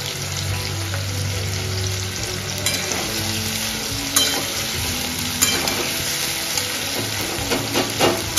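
Onions fry in a pan over low to medium heat, giving a steady, continuous sizzle with occasional stirring clinks and scrapes, close and without talk.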